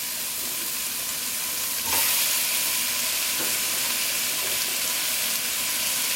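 Tomato goes into a pan of frying wild rice pilau, setting off a sudden louder burst of hissing sizzle that then carries on as a steady crackling fry, nearby and with no voices.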